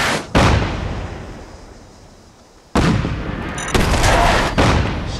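Heavy artillery booms from the Castle in Fallout 4, two huge blasts with a long fading rumble between them, followed by further loud overlapping explosions close by.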